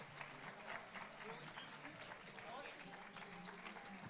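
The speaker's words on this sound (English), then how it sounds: "Another round of applause to our panelists." Audience applause for panelists at an annual Cesar Chavez breakfast, a moderate, steady spread of clapping from a crowd across the whole stretch, with occasional cheers and voices mixed in.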